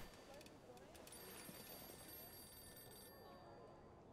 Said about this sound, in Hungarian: És csörög a telefon.